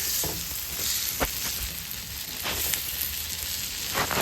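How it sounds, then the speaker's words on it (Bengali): Duck eggs frying in oil, a steady crackling sizzle with sharp pops and spatters scattered through, no talk. "ডিমগুলি তেলের উপর ছেড়ে দিলাম।"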